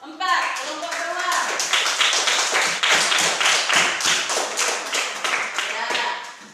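A classroom of students claps for a discussion group, a fairly loud, steady patter of many hands that starts at once and tapers off toward the end, with some voices mixed in.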